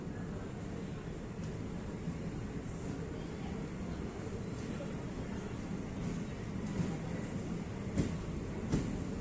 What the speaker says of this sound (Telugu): సో ట్రైన్ కూడా స్టార్ట్ అయిపోయింది ప్లాట్ఫామ్ నెంబర్ 2 నుంచి